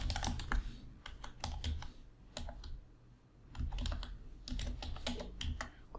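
Fast bursts of typing on a computer keyboard as a name and email address are entered into a PHP form, near and crisp, with brief pauses between runs of keystrokes and no voice.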